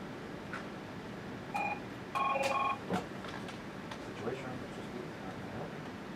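A telephone dials through to a White House call, short bursts of keypad tones and a ring signal standing out clearly from low room noise, with quiet voices in the background.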